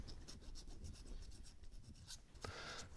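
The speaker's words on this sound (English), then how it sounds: "I've got a little machinist file here. I'm going to go inside there and I'm going to take all of the burr out of it." A small machinist file rasps inside the end of a brake line to clear out the burr, giving quiet, close, quick scratchy strokes in a steady rhythm that end with one sharper scrape.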